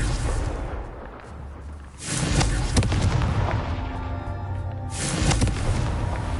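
Confringo blasting spell exploding in the Hogwarts Legacy video game, with two loud, booming blasts a few seconds apart over a rumbling game soundscape.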